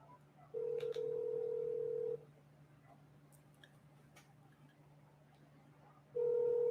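A home landline phone gives a steady dial tone, then stops for a stretch of faint clicks and keypresses while a number is dialed, before the tone returns at the end; quiet and even throughout.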